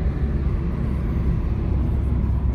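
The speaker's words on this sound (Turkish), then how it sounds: "Gelen yol gürültüsü, daha doğrusu rüzgar sesi." Steady low rumble of road and wind noise inside a car moving at 100 km/h, a constant broadband hum with no breaks.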